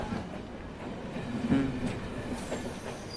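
A train rolls past on the rails with a steady rumble and rhythmic clatter, reaching a brief metallic squeal at its loudest before continuing at a moderate distance.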